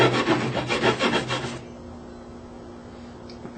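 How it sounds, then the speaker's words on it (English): A hand saw cuts a fret slot in a wooden cigar box guitar neck, with about a dozen quick, rhythmic rasping strokes up close for a second and a half before the sawing stops and only faint room noise remains. "you want to make sure you keep the saw perpendicular and you don't get off on an angle this way or an angle that way"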